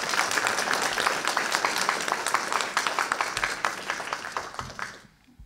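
Audience applause after a panelist's introduction at an alumni panel on Black student history at Stony Brook University, a steady dense clapping that fades out at the end.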